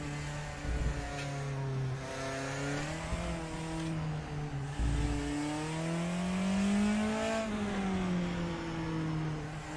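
A race car engine in RaceRoom Racing Experience revs loud and close on slick tyres, pitch sweeping up and down through shifts with brief downshift blips, steady and without voices.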